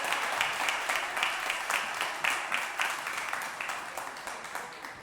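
Church congregation applauding during a service, fairly quiet clapping with a rhythmic, pulsing feel that fades toward the end, no speech over it.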